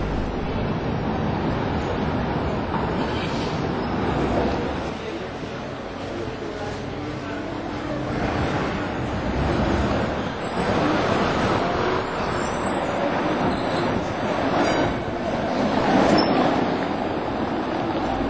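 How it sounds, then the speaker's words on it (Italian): A tram runs on rails through central Milan toward the Duomo, a steady rumbling roll with rising and falling swells, heard from aboard or nearby amid city traffic, with voices talking over it. "via col primo tram direzione Duomo"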